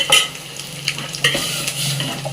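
Rasam hisses and sizzles as it hits a hot pan of tempering, with bursts of crackling and stirring scrapes, loud and close.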